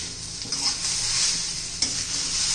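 Onion sautés with ginger and garlic in a pan, giving a continuous close sizzle with a couple of sharp stirring scrapes.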